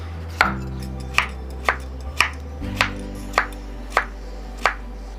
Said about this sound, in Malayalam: നമുക്കിങ്ങനെ ബോർഡിൽ വെച്ച് നൈസായിട്ട് കട്ട് ചെയ്തെടുക്കാം